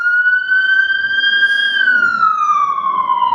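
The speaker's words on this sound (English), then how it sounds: "And there's an ambulance whipping by." An ambulance siren whips past on a Blackpool seafront street, a loud, close, sustained wail whose pitch sags as the vehicle goes by, with no voices.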